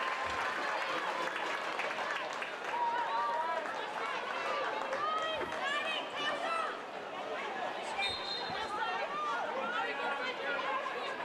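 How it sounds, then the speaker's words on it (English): Brighton fans applauding in a football stadium during a women's league match against Bristol City, a distant crowd clapping and murmuring beneath close commentary. "Maisie Simons receives the applause from the Brighton fans."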